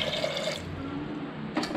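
Water is poured into a pressure cooker while beef chukka is made in a home kitchen: a short, splashing pour that stops after about half a second, then a quiet pause and a brief final splash.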